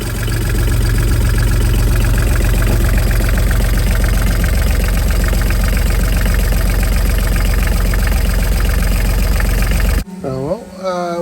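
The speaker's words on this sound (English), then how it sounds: "We have to run the engine short bursts to get the circulation pump going." A sailboat's inboard engine runs loud and close, a steady knocking diesel-like idle that stops abruptly near the end, followed by brief clunks and a short mechanical whine.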